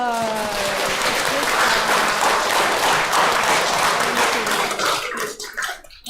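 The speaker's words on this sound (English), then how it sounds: "Our little Buddhas, give them big applause" An audience at a Sunday Buddhist temple gathering applauds a group of children with loud, dense clapping that swells, holds, then thins out into scattered final claps, under a brief trailing voice at the start.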